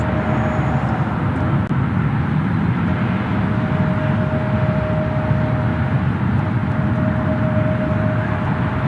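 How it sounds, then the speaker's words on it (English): A steady, low jet-engine drone from an airplane passing overhead near Memphis International Airport, continuous and fairly loud throughout, with a faint high whine on top. "I'm trying to figure out where I hear an airplane."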